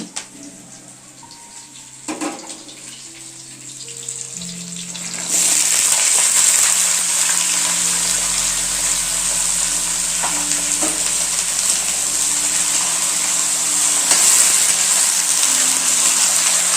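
Grated radish drops into hot oil with reddened tempering spices in a pan, setting off a loud, steady sizzle and frying hiss that continues to the end after a few quieter kitchen clinks.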